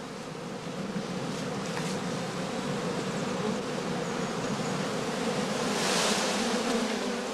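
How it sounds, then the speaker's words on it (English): Honey bees collected into an empty straw skep make a steady, soft droning buzz, a dense swarm hum that stays even and close with a slight swell near the end. "Bees removed, that the beekeeper does not want for his overwintering skeps, are collected in an empty skep reserved for sale."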